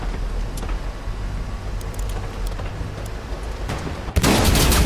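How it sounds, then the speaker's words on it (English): An enemy tank shot in Hell Let Loose lands as one sudden loud blast near the end, cutting through a steady rumbling vehicle drone and leaving a harsh roar behind it. "That's a shot from the enemy tank."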